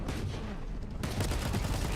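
Gunfire in a VALORANT esports match between G2 and MIBR, a dense rapid rattle of shots that grows louder and more continuous partway through, close and loud, with no voices.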